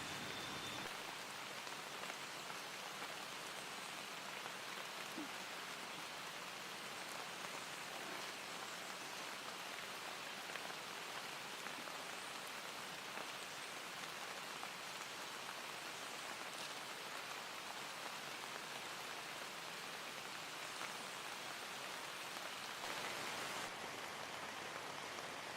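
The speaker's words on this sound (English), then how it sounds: "I'm sure you can see it's absolutely pouring" Heavy spring rain pours steadily outdoors at a black bear hunting site, a dense, even hiss of drops that continues unbroken throughout with no voices.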